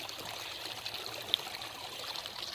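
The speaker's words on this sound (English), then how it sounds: "Here's the waterfall." A small waterfall in a stream spilling beside a gold-prospecting sluice, a steady soft trickling and splashing wash of water heard close by, continuous and fairly quiet, with no voices.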